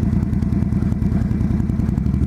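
A motorcycle engine runs steadily and close by, a continuous low throbbing drone with rhythmic pulsing and light mechanical clatter throughout, no voices over it.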